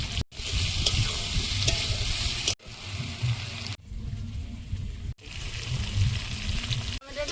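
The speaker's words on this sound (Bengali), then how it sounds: "পেঁয়াজ আদা রসুন সব দিয়ে ভালোভাবে ওলটা কষিয়ে নেব" Yam pieces frying with onion, ginger, garlic and green chilli, a loud continuous sizzle broken by brief pauses, with stirring scrapes close by and a little faint talk.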